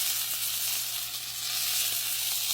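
Steady, bright sizzle of butter in a hot pan as filet mignon cooks, a constant close crackling hiss with a low hum underneath and no talking.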